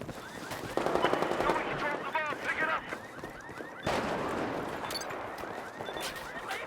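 Rapid bursts of machine gun fire in the Battlefield 4 beta, Obliteration mode, with a loud sharp crack partway through, layered under in-game voices and battle noise.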